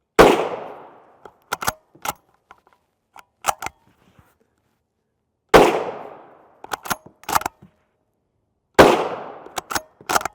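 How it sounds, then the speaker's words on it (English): Three loud, close rifle shots of 145-grain FMJ 350 Legend fired from a 16-inch Ruger American with a single-port muzzle brake, spaced several seconds apart, each followed by a few lighter metallic clicks of the action. "We'll start with our shortest barrel length, which is our 16-inch Ruger American."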